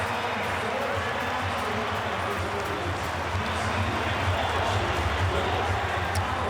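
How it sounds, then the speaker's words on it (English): Home crowd at a Parramatta Eels rugby league finals match in a stadium, a dense, continuous roar of voices and cheering that stays broad and steady throughout with no break. "Just have a listen to the reception the Eels are going to get from the home crowd here."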